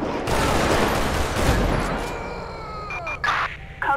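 Gunfire in GTA V with the LSPDFR police mod during a shots-fired callout: a loud, dense fusillade of rapid shots and booms for about two seconds, then fading into scattered sharper pops with brief gaps.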